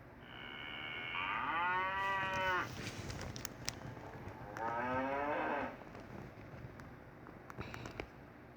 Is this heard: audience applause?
no